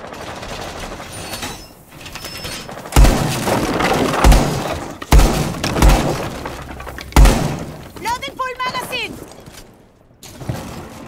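Explosive breaching bursts of a wall being punched through in Rainbow Six Siege, several loud cracking, splintering impacts of wood and glass debris spread across the stretch, with game voices talking in between.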